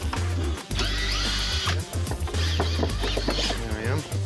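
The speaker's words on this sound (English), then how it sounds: "All right, so we'll just unscrew the top here?" A power drill whirs in short bursts while screws are backed out of the top of a door frame in a house under repair, loud and close, with people talking over the work.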